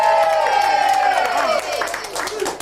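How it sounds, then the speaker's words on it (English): A studio audience applauds and cheers on a breakfast television show, a dense, loud wash of clapping and crowd noise that carries on steadily throughout, dipping slightly toward the end. "Let's have a big round of applause to Anna and Rocket the Wonder Dog."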